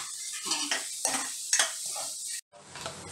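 Onion, ginger, garlic and curry leaves fry in a pan for sambar, a bright sizzle with rhythmic stirring scrapes and utensil clinks, briefly cut off before resuming.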